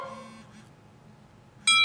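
The iPhone iOS 6 "Bell" text alert tone sounds near the end as a single bright bell strike that rings on briefly, following a fading tonal sound and a quiet lull.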